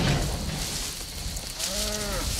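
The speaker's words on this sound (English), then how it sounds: "Poor cow." A cow in Jurassic Park gives a single low, drawn-out moo near the end, over a dense, noisy movie background.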